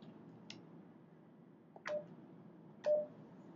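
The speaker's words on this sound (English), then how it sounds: "To hang up the intercom call, just press the intercom button again on either end." Cisco IP desk phone gives three short, faint beeps about a second apart as the intercom button is pressed, each one a brief tone with a soft click in a quiet room.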